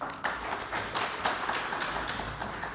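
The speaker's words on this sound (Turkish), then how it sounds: "Onlara da bir alkış istiyorum değerli arkadaşlarım ben." Members of an assembly hall give a round of applause, close and fairly lively, with distinct individual claps standing out from the steady clapping until it holds on at the end.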